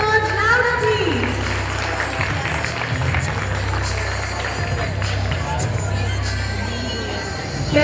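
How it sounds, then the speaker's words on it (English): Parents applaud at a school sports event, a Pass the Ball Race, with continuous clapping and crowd hubbub under a voice speaking. "Can we hear the applause louder, please?"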